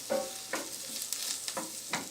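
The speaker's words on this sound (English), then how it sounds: "we're going to put our mushrooms in the skillet and get these guys cooking along with the onions and garlic" Mushrooms with onions and garlic sizzle in a skillet, a soft steady frying hiss broken by several scraping stirs at irregular intervals, close and fairly quiet, with no talking.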